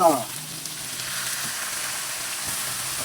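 Onion and garlic sautéing in a pan for patatim, a steady close sizzle that rises after a short clatter at the start and continues evenly throughout.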